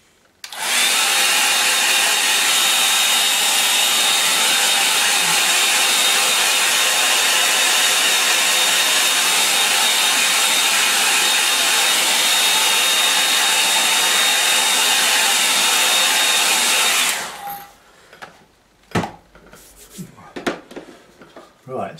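A loud, steady hair dryer blows on a watercolour sky painting for about seventeen seconds without a break, then cuts off, leaving faint handling noises behind.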